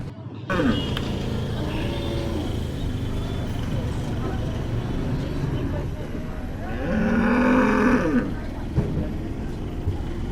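A cow lows loudly once amid a busy, crowded outdoor din of voices and rumbling vehicles at a cattle market in Chhatrapati Sambhajinagar, India.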